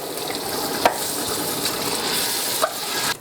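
Tomatoes are stirred into a simmering meat sauce in a pan, heard as a steady soft bubbling sizzle with two sharp spoon knocks against the pot.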